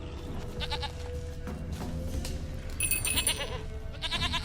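A stubborn goat in The Witcher 3 gives a series of quavering bleats over in-game ambience, with the calls growing louder and closer toward the end and no talking.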